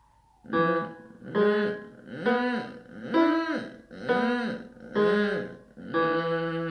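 A singer's vocal fry warm-up repeated on successive notes: about six sustained creaky, buzzy tones, each swelling and sliding in pitch, steady and close, with even breath and no talking.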